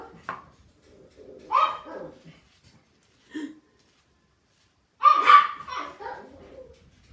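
Several dogs bark in short separate bursts spread across the clip, with a loud cluster near the end, indoors near a door where people can be seen outside.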